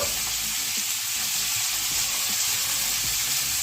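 Chopped onion and potato pieces sizzle steadily in hot oil in a pan while cooking pui metuli chorchori, a continuous close, loud crackling hiss with no talking.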